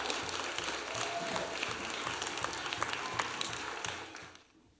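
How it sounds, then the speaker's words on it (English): A congregation gives a round of applause for camp staff during a worship gathering, with steady, fairly distant crowd clapping that fades out near the end. "Let's give them a round of applause."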